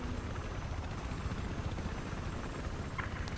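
A helicopter in Battlefield 4 drones as a dense, continuous low rotor rumble filling the whole stretch, steady and fairly loud, with no voices over it.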